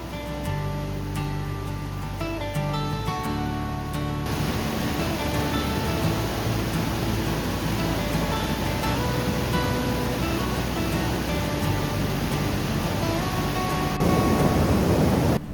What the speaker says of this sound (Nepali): यहाँ पानी बढी हुँदा यस्तो झरना पनि झर्ने गर्दछ